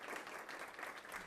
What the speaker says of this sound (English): Let's give Rivers East a big round of applause for the incredible work they're doing here.